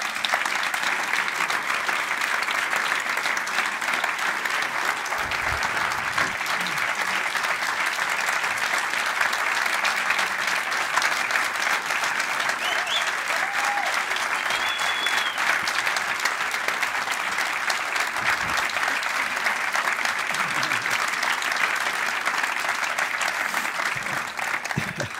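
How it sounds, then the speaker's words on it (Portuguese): A concert audience greets a blues musician with sustained, dense applause throughout, loud and even, as a broad crowd of clapping hands with occasional faint cheers and no speech. "Uma salva de palmas,"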